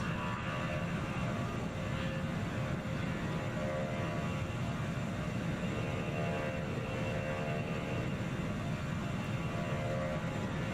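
In the video game Transport Fever 2, an airliner engine at a UK airport drones with a steady, even roar that runs unbroken for several seconds, moderately loud and with no voices over it.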